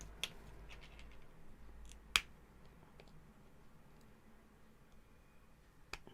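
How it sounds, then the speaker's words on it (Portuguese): Scissors or pliers cut the tip off a plastic children's medicine dosing syringe, giving a few sharp, close snips and clicks. One crisp snap stands out among fainter ticks in a quiet room. "A gente vai tirar aqui vai tirar essa ponta aqui, ó. Pode pegar um alicate ou tesoura"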